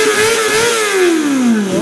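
A Kawasaki ZX25R SE with an aftermarket steel Akrapovic-style exhaust revs at high RPM, giving a loud, close, continuous rasping engine note whose pitch swells and then slowly sinks.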